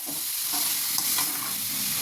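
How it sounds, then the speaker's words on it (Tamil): Brinjal and drumstick sautéing in a pan with chilli powder for a drumstick poriyal, giving a continuous close sizzle and soft hiss with faint stirring movements, no voices. "கத்திரிக்காய் முருங்கைக்காய் போட்டு நல்லா வதக்கிக்கணுங்க"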